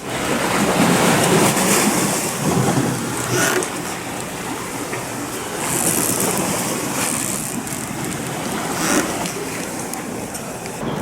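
Sea waves wash against underwater rocks beside a moored sailboat near Marbella in a continuous broad rushing surge, swelling and ebbing in slow cycles with no talking.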